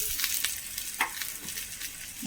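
A pathiri rice flatbread sizzles in a pan just after being turned over, a steady soft crackle with a few brief scraping or stirring touches, close and moderately quiet.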